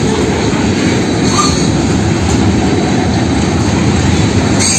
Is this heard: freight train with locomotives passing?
yes